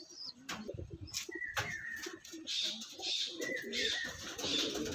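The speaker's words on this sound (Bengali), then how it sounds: "এসব পায়রাগুলো আপনারা দেখুন" Andhra pigeons kept for sale coo in low, repeated murmurs close by, several birds overlapping with faint chirps and rustling.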